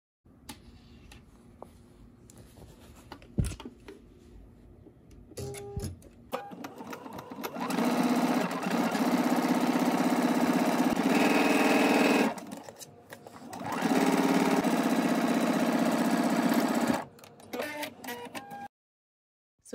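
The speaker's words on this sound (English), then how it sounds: "Now let's go to the sewing machine and stitch these together." A sewing machine whirs steadily in two long stitching runs with a brief pause between, preceded by quiet handling noises.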